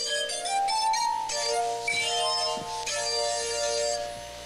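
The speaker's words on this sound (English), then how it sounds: "You dip your fingers in water and rub them around the rims of the glasses." Glass harp played with wet fingers rubbing the rims of ordinary drinking glasses, producing sustained, ringing pure tones that shift pitch and overlap in a continuous, loud melodic line.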